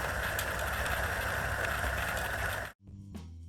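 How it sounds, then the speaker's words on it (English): A Eureka Mignon Single Dose coffee grinder grinds beans, a dense steady buzzing whir for under three seconds that cuts off sharply, followed by a brief soft clunk in the quiet. "It sounds like any other Mignon series grinder"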